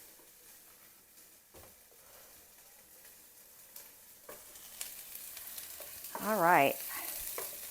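Onions frying in a pan for an old-fashioned turkey goulash give a soft, steady sizzle throughout, with a louder stirring scrape and rattle near the end.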